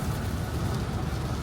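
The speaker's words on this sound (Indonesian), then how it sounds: "Hujan, gerimis, hujan, gerimis terus." Steady rain drums on a car during a long road trip on a highway, a dense, continuous wash of noise with no voices.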